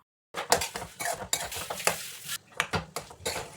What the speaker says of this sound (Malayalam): ഇനി ഒരു കുറച്ച് സമയം എല്ലാം കൂടി നന്നായിട്ട് മിക്സ് ചെയ്യാം